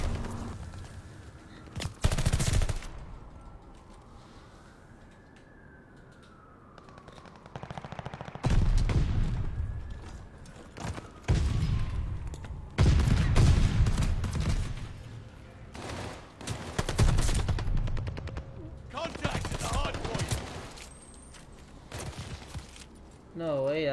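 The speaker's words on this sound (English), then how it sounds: "That's a major gunfight to lose" Video game gunfight with bursts of automatic rifle fire and scattered single shots, loud and close, coming in irregular clusters over about twenty seconds while players talk over the action.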